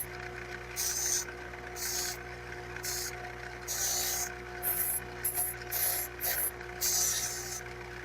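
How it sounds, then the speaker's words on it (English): A wire wheel scrubbing corrosion from a soldered brass carburetor float off a 1990s snowblower, heard as repeated short bursts of harsh, hissing abrasion over a steady motor hum, close and fairly loud. "This wire wheel will just see through this."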